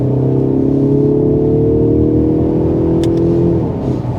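A 2024 Mercedes-Benz CLE Coupé engine revs hard under throttle, a loud steady droning pitch that climbs for about three and a half seconds before easing off, close and continuous with no talking.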